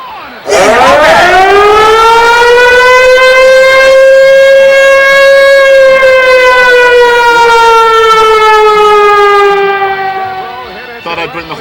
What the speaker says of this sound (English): I like the siren, yeah.